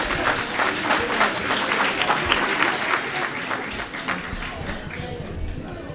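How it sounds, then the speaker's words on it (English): Audience applause at a World Teachers Day event for a choir, a sustained wash of clapping with some crowd noise that carries on for several seconds and eases slightly toward the end. "they deserve another big round of applause."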